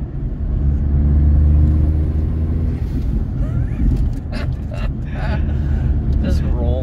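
A 1996 Daihatsu Mira TRXX Avanzato engine drones steadily from inside the car while driving, a loud, constant low hum throughout with people talking over it.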